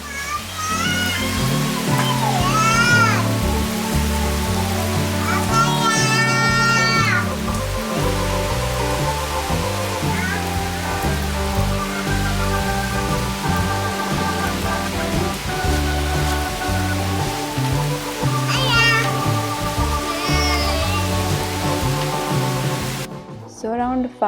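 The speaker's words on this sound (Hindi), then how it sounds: "यहाँ पे आ गई बारिश, तो मौसम बहुत अच्छा हो गया।" Steady rain falls outdoors as a dense, even hiss throughout, with a voice and adult chatter on top, and music playing underneath.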